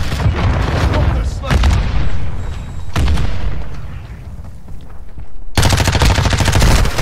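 Rapid bursts of machine gun fire in a shooter video game crackle loudly and continuously, returning in a dense, fast rattle near the end while players talk over the action.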